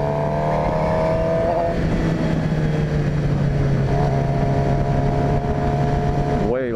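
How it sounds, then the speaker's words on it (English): A 2018 Suzuki GSX-R750 motorcycle engine roaring loudly at speed, a constant droning growl with rising and falling pitch and wind rush, and a sharp rev shift near the end. "Gosh, this is fast. I love this sound. This thing's loud."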